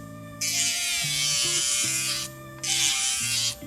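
A portable electric nail drill whines at a medium setting in two sustained bursts, a steady high motor buzz that rises and drops as it engages, with a brief pause between runs.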